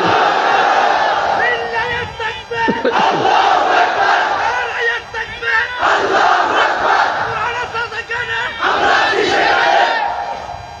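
A large crowd at an outdoor Islamic sermon gathering in Hatiya roars the takbir chant in unison, loud and sustained, in repeated surging waves.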